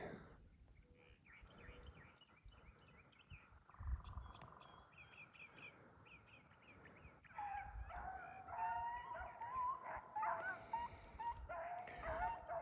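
Dogs yip and bark outdoors during spring exercise near a briar patch, faint and distant, with excited whimpering yelps growing busier in the second half.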